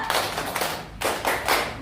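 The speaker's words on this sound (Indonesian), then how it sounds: "Tepuk semangat 3." Rhythmic group clapping for a classroom spirit clap, several distinct bursts of hand claps in a steady pattern, fairly close and alone without talk.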